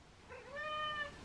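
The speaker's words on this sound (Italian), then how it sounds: "Sei un cacciatore nato, gatto Denver." A cat gives a single clear, rising meow, fairly close and alone, with no talking over it.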